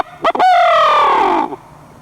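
A Penn's Woods owl locator call, blown by hand to imitate a barred owl for turkey hunting, gives one loud, close hooting note with a brief stutter at the start, then a sustained wavering tone that falls away after about a second.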